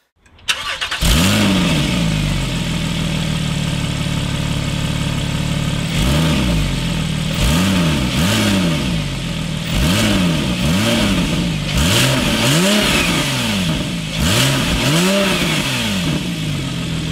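A Porsche 997 GTS cabriolet with a SCART exhaust starts and then revs over and over, each sharp blip rising and falling back to a loud, close idle, with no voices.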